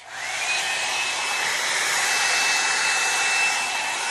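A hair dryer runs steadily at close range, blowing thick hair in a continuous even whoosh with a faint high whine, and no one speaks.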